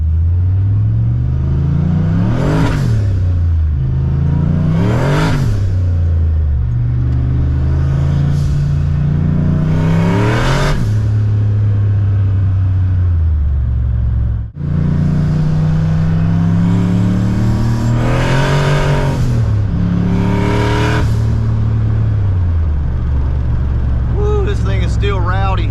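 A turbocharged Fox body car on street tires accelerates hard, its engine revving up repeatedly in loud, close rising pulls with brief shift breaks, steady roar throughout and a voice speaking over it.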